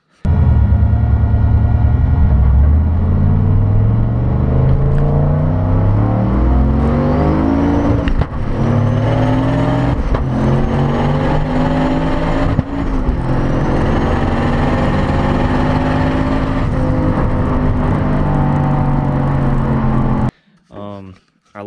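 A turbocharged LS-swapped Mazda RX7 with a manual gearbox makes a loud, close full-throttle pass, the engine climbing in pitch through several gear changes before cutting off near the end.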